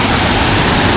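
Water crashes down at a Konkan waterfall, a loud, unbroken roar heard from very near, steady throughout with no one speaking.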